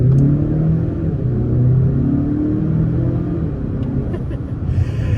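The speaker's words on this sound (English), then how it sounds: "What's interesting, it's not shifting at red line, and I floored it." A Mazda CX-5 with a 2.5-liter turbo four-cylinder accelerates at full throttle in sport mode, giving a loud, steady engine drone heard from inside the cabin as the pitch climbs gradually without a gear change.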